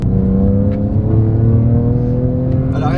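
A Peugeot 208 tuned to stage 2 with a Milltek exhaust pulls hard in a steady, loud engine drone that climbs gradually, heard close and continuous for the whole stretch.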